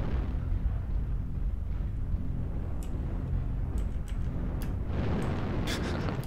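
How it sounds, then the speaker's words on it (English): Explosion in a mech combat video game, a deep low rumbling blast that rolls on for several seconds, with scattered sharp clicks and crackles flickering over it. "Worst explosion."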